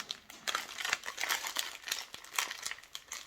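Plastic packaging crinkles and rustles continuously and close by as a parcel is opened, the crackling rising and falling in quick irregular bursts.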